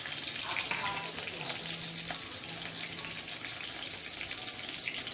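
Green chillies and curry leaves fry in hot oil for a pumpkin curry, giving a dense, continuous crackling sizzle up close, with a faint low hum beneath it and no speech.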